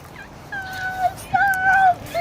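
Near, clear bird calls: several whistled, drawn-out notes in short phrases over a steady outdoor background hiss, with no talking.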